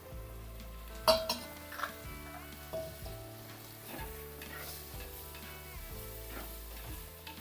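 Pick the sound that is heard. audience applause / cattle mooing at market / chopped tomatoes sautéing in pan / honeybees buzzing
chopped tomatoes sautéing in pan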